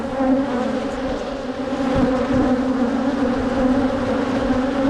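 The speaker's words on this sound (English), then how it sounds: "I've not had this many bees come out and just swarm at me for this long." A swarm of bees drones steadily and close up outdoors near a catio, a dense, continuous buzzing that stays loud and unbroken with no talk.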